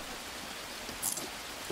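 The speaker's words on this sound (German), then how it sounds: "Jetzt regnet's auch." Soft, steady hiss of rainfall in the jungle survival game Green Hell, a brief constant wash with a faint high splash near the middle.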